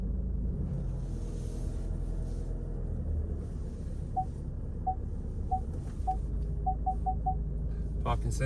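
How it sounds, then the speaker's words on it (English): Rear parking sensors on a Ford Kuga mk2 beep over the low hum of the car. There are about seven short, clear tones, spaced apart at first and then coming faster together. "Parking sensors is working."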